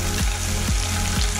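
Ginger garlic paste sizzling loudly with cumin seeds in a hot pan for Kashmiri dum aloo, a steady close frying hiss with a few low thuds recurring through it.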